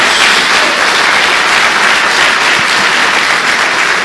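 A church congregation applauds during a service, a loud, dense, sustained burst of clapping from many hands with almost no talk.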